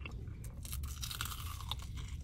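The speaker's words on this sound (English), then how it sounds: "that crunch sounds so good." Crunchy bite into a Korean corn dog, a close, quiet crunching and chewing with a few crisp cracks and no talking.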